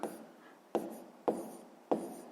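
Pen or pencil scratching out a sixth-grade maths solution on paper, three distinct strokes starting sharply and fading into soft rubbing, close and quiet, with no talking.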